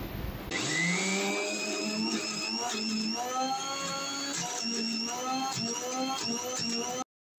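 A mixer grinder whirs loudly and steadily for about seven seconds while it grinds soaked urad dal, its motor pitch wavering as the batter churns, then it cuts off abruptly.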